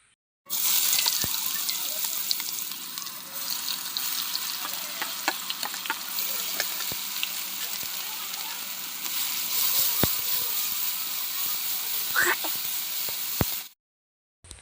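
Two pieces of whole cinnamon and two bay leaves frying in lightly heated cooking oil, a steady close sizzle with scattered small pops and clicks, a voice briefly talking over it, then the sound cuts off near the end.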